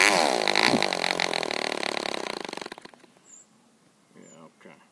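A PAW 1.5cc model diesel engine running backwards and too rich buzzes loudly and raggedly for under three seconds, then cuts out, leaving faint sputters and quiet background sounds.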